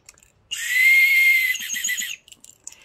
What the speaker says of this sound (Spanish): ¿Veis que tengo aquí un silbato?